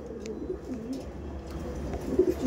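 Female Andhra Madras pigeon cooing softly in a low, steady murmur, with a slightly stronger coo near the end against a constant background hum.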